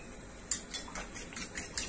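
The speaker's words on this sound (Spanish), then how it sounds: "Batimos bien nuestros huevos" Eggs are beaten in a bowl with a fork or whisk for pasta: a quick run of about seven light clinking taps against the bowl, close but soft, with no talk.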